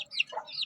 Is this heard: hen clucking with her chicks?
yes